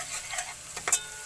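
Garlic and onion sizzle in a pan while cooking bopis, a soft, faint frying crackle with a few brief stirring scrapes and clicks near the end.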